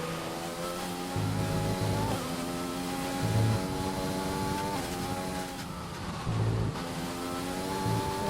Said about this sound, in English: That's Lando's car.